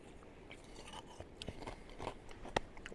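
Close, quiet chewing of an Italian armed forces MRE soup with makeshift croutons, giving soft crunches and wet mouth sounds in irregular bites, with one sharper crunch near the end, no talking.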